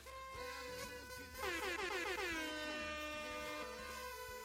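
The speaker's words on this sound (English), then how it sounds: "Can we get an air horn with that?" A loud, blaring air horn blasts repeatedly over a steady musical tone, its harsh stacked honks sweeping and overlapping for several seconds.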